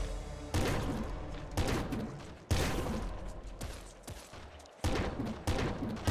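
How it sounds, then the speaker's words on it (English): Repeated Kraken pistol shots from the video game Nuclear Throne, each loud burst arriving in an irregular rhythm over layered game effects, with no voices. "Kraken pistol, let's go."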